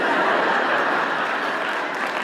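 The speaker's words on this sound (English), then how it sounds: "Don't applaud." A brief burst of dense audience applause with a few chuckles, a steady wash of many hands clapping at once.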